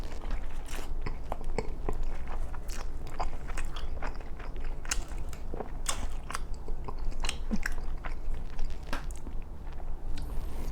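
Someone bites into and chews a McDonald's crispy chicken sandwich with lettuce, tomato and mayo, giving repeated crisp crunches and wet chewing sounds close to the mic, with no talking.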